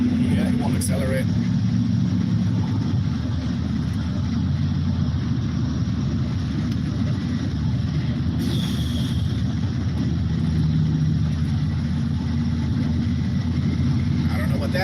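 A car engine struggling to accelerate after a fill of fresh gas drones steadily at close range with road rumble, holding speed without pulling harder, while muffled voices talk over it.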